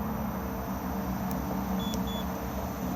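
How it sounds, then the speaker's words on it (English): A Swift Lifestyle 4 caravan alarm gives two short, thin electronic beeps close together as it disarms, heard over a steady background hiss. "2 beeps and 2 flashes disarmed"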